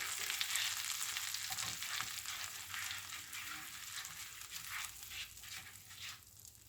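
A spoon working melted butter and brown sugar in a pan, a steady soft scraping and stirring over a faint continuous sizzle, close and alone with no talk.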